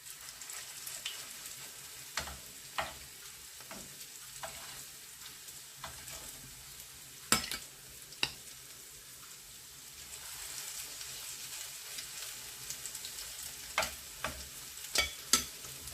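Minced meat and young cabbage patties fry in oil with a quiet, continuous hiss. Scattered louder pops and spatters break through, close by, with no talking.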